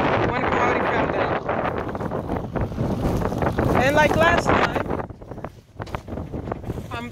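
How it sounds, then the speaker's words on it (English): Gusty wind buffets the microphone with a low rumble while a person talks over it, the roar dipping briefly near the end. "it's pretty windy"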